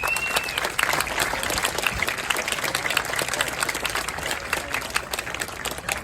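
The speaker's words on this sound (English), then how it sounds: "Let's give them all a big round of applause." Applause from a crowd at a highway corridor ribbon-cutting ceremony outdoors: dense, sustained clapping at an even level throughout, close and loud, with scattered voices mixed in.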